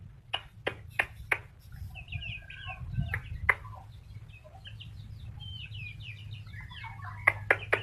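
Chickens and a rooster clucking on a village farm, quiet and somewhat distant, with several sharp clicks or taps at the start and end over low background hum; no talking.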